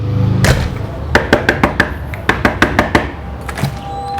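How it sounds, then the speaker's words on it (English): Sharp, close knocks on a door in two rapid sets of several raps each, crisp and loud against a quiet room. "somebody knocking on the door, ringing the doorbell, so we're going to do that"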